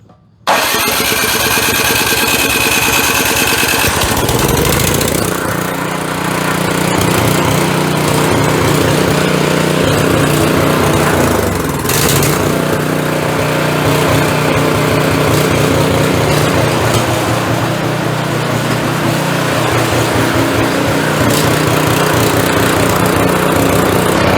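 A snowblower's small gasoline engine cranks on electric start, fires up and settles into a loud, steady running drone with a slightly uneven beat, close by with no talk.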